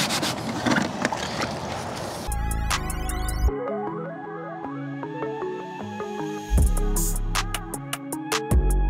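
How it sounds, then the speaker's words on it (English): Washed Toyota Corolla AE86 GTS parts are scuffed with a scotch pad in a short burst of close, dry rubbing, then tonal music takes over. "now we're gonna scuff them up with this scotch pad"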